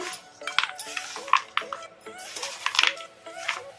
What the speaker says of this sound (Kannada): ಈಗ ಇದನ್ನ ಕೈಯಿಂದ ಕಲಸ್ಕೋಬಾರ್ದು ಈ ಥರ ಸ್ಪೂನ್ ಸಹಾಯದಿಂದನೇ ಕಲಿಸ್ಕೋಬೇಕು